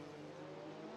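Race cars in the Assetto Corsa video game lap the Bikernieki high-speed circuit, a steady, droning engine note with strong harmonic tones that holds evenly throughout.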